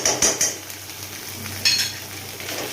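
Ghee sprinkled over fried taro greens with chickpeas in a pan, a continuous soft sizzle with a few sharp metallic clinks of a spoon early on and again midway.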